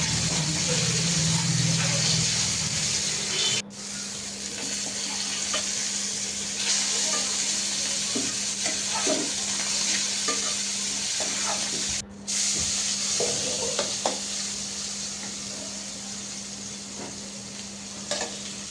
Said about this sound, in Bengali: আর এদিকে বাইলা মাছটাও ভেজে নিচ্ছি